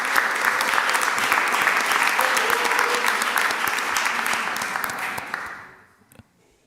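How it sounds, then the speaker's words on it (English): At a Springfield City Council meeting, a crowd applauds the parents of high school athletes with full, sustained clapping that fades out near the end, leaving a few scattered claps. "So let's clap it up for the parents."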